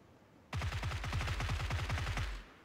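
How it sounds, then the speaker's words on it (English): Rapid automatic gunfire in a video game, a burst of about twenty evenly spaced shots lasting around two seconds, loud and close, starting abruptly after a quiet moment and tailing off. "Shooting your fucking corpse."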